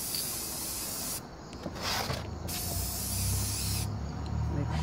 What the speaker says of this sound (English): So we're gonna spray this pole up a little bit more.